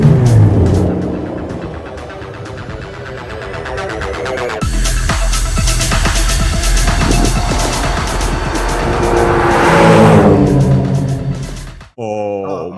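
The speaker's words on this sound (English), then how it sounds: "why does it sound so good? Because this is a straight pipe exhaust car" An Aston Martin DBS with a straight-pipe exhaust and no catalytic converters pulls away loudly, its engine revving and climbing in pitch, with a brief squeal of tires, then cuts off abruptly near the end.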